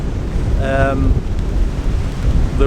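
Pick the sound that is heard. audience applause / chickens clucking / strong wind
strong wind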